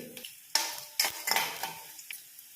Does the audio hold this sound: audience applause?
no